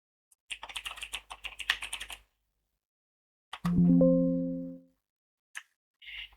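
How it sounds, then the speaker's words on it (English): Short burst of typing on a computer keyboard while entering an ID and name in project scheduling software, a quick cluster of close, light key clicks, followed by a brief tonal chime and a couple of faint clicks. "We can change its ID and name by simply click and typing."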